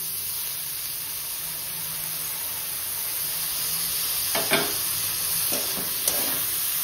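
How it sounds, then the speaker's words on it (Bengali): Dal frying and being stirred with cumin powder, salt and spices in a pan: a steady soft sizzle throughout, with a few brief scraping stir strokes near the end. "মশলার সাথে একটু ভালো করে ভেজে নেব"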